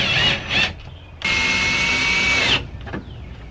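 Power drill fastening a small fuse box to a wooden wall inside a camper van conversion, two short whirring bursts followed by one longer steady high-pitched run, close and loud, then quiet handling noise.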